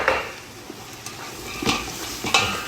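Carrots are stirred into a pot for chicken bukhari, giving a quiet sizzle with a few soft scrapes and clinks of a spoon against the pot, close and gentle, with no talking.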